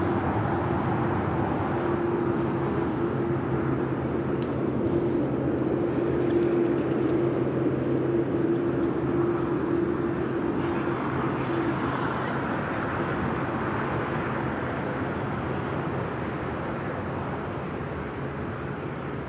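A jet airliner taxis on the ground at LAX airport, giving off a steady, moderately loud engine whine and rumble with a sustained hum that fades slightly toward the end, with no talking.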